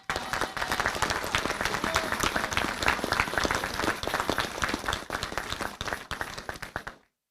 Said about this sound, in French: Je vous demande également de les applaudir.